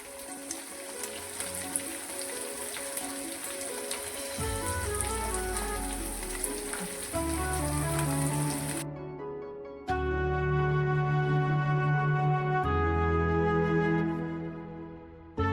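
Chopped small and large onions hit hot oil in a pan for prawn thokku, giving a steady, rain-like sizzle for about nine seconds beneath loud tonal background music, which then carries on alone.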